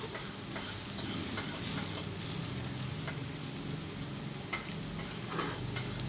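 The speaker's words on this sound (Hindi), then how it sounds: "अब इनको अच्छी तरह से अंदर मिक्स कर लेंगे सारे मसाले के साथ इस तरह से" A spoon stirs boiled potatoes with spices in a pan over a low flame, soft scraping and shuffling strokes repeating close up over a faint steady sizzle, with no talking.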